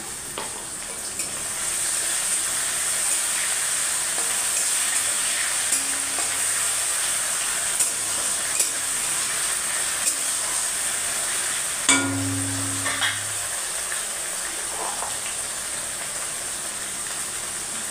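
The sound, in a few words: tomato frying with salt in a pan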